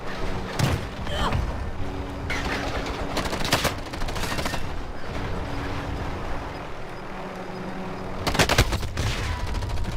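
Gunfire in the video game Call of Duty Warzone: bursts of automatic fire and sharp shots over a constant rumbling game mix, with heavier volleys near the start and end and a voice talking now and then.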